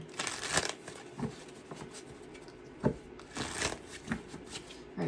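Tarot cards being shuffled by hand in quick papery bursts, several riffling sweeps and soft taps spread across the moment, close and fairly quiet with no talking.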